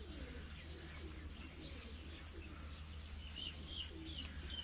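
Rooftop pigeons coo in soft, low, repeated rolls, fairly faint and steady, with a few thin chirps over a continuous background hum.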